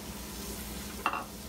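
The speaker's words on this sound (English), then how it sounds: "we are gonna saute this onion until it's" A large chopped onion sautés in extra virgin olive oil in a pan, a soft steady sizzle with a brief sharper clatter of stirring near the end, close and quiet.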